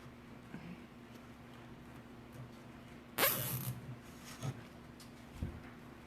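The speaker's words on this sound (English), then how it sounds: "Then going with the old zip tie, just to hold it together." A plastic zip tie is cinched tight around a winter centerpiece of fluffed white accents and pearls, giving one brief loud ratcheting burst near the middle, then a couple of faint rustles afterward.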